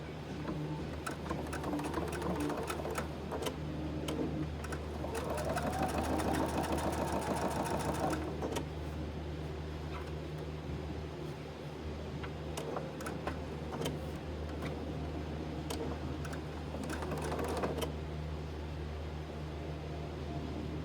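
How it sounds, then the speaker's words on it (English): Sewing machine running steadily while top stitching a fabric case, a continuous close whirring hum that speeds up into a denser rapid stitching burst midway, then settles back to a steady run with occasional clicks. "So now we will top stitch."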